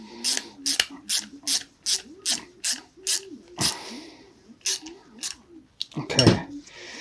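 A hand ratchet clicks in quick rhythmic bursts while bolts are tightened on a ZZR600 motorcycle in a workshop, about a dozen short close ratcheting strokes followed by a few slower ones and a final scrape.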